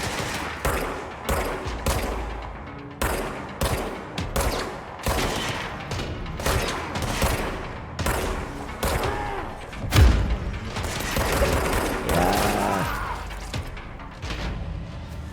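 Repeated bursts of gunfire in the action game Control, loud sharp shots in a steady rhythm with a heavier crash near the middle, and little talk.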